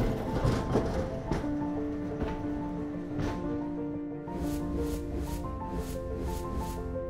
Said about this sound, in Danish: Sporvognene begyndte at køre